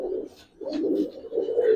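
A Giribaz silver pankhi pigeon with stone-coloured eyes coos close by in a pigeon house, giving soft, throaty rolling coos in quick succession.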